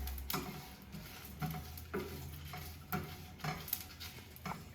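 Whole spices dry-roasting in a pan for bagara rice masala, stirred in a steady scraping rhythm with soft rattling and patter of seeds against the metal, close and fairly quiet, no talk.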